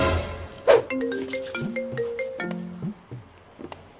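A melodic phone ringtone plays a quick sequence of bright electronic notes, fairly clear over faint background noise.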